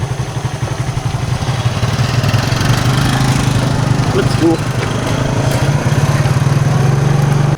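A habal-habal motorcycle taxi idles close by with a rapid, even chugging putter that stays loud throughout, while a person says a brief line over the engine.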